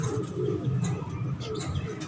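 Low, rolling coos from a female red-beaded pigeon of the Sialkoti fancy breed, steady and close throughout, with faint higher chirps from other birds behind.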